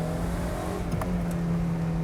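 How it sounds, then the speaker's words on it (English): A 1990 Mazda Miata with a stock exhaust hums steadily and close at a low engine note while driving, with no talking over it. "you just rev it out and it sounds so good without like a modified exhaust"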